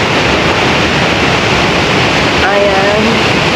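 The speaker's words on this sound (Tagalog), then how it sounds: "Tulay Waterfall." Talay Falls in Luisiana, Laguna, heard as a loud, dense, continuous rush of falling water close by, with a faint voice briefly showing near the end.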